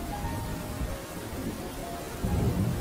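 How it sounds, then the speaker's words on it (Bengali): Heavy rain pours steadily with low rumbles of thunder in a cartoon storm, a constant dense wash that swells louder near the end. "বাবা ওঠো, দেখো বাইরে অনেক বৃষ্টি হচ্ছে তো।"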